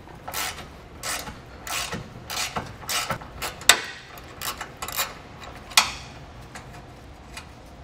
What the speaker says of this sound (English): we're gonna take a 10 millimeter socket and we're gonna remove that bolt.